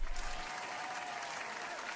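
Sustained applause from a crowd in a Final Fantasy XIV cutscene, a sitcom-style entrance clap that stays loud and steady throughout, with no talk over it.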